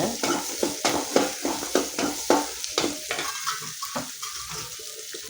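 Small shallots sauté in a pan for a home-style kuzhambu, a loud sizzle under a run of rhythmic spatula scrapes and knocks that thin out toward the end.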